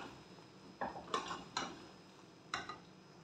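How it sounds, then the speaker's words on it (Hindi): A spoon stirs onion and garlic frying in oil in a pan, producing four or five sharp metallic taps and scrapes against the pan, spaced irregularly over a quiet, faint sizzle. "चम्मच जो है ना हिलाते रहना है ताकि हमारा प्याज जो और तेल जल ना जाए"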